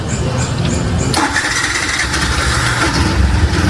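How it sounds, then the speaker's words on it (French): A motorcycle engine is started nearby; after a brief rattling attempt it catches about a second in and then runs in a loud, steady, rough idle, with faint background voices. "Ils ont la technique là pour démarrer leur moto."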